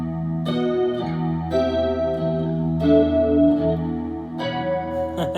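Chords on an electric guitar ring out through a stereo effects rack blended with a clean signal, a wide, shimmering chorus and reverb, each strum swelling and lingering in a lush, spacious wash.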